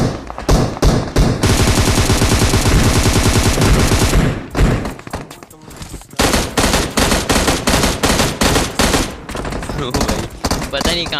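Pistol gunfire in PUBG at Pochinki, loud dense firing at first, then a short gap, then a quick series of rhythmic single shots, all close and without talk.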